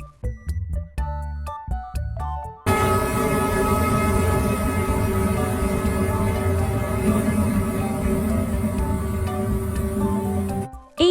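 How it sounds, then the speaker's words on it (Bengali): Train rumbling steadily with a long sustained horn-like tone held for several seconds, loud and continuous, preceded by a few brief tonal notes. "এটা হলো ট্রেন। ট্রেনকে বাংলায় রেলগাড়ি বলে।"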